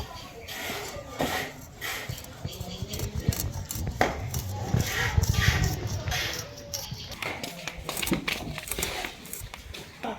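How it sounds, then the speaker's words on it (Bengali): Knife chopping garlic on a board: irregular clusters of quick taps and knocks, close and moderately loud, over kitchen clatter and background noise. "প্রথমে রসুনগুলো কুচিয়ে নেব।"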